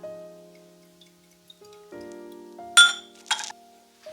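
A glass bottle of Balcones Texas bourbon being handled, with a couple of bright glassy clinks near the end, the second just after the first, over a quiet room hum.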